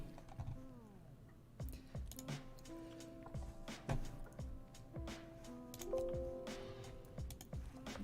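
Computer mouse clicks and keyboard typing during video editing, scattered close taps and clicks in irregular bursts, under tonal background sounds and with some talking.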